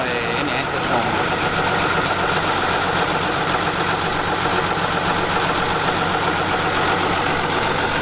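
A truck engine runs at a steady, close idle with a dense, knocking rumble that continues throughout. Faint voices sit underneath it.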